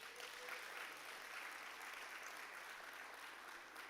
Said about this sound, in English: And again, clap the Agri-Invest Corporation.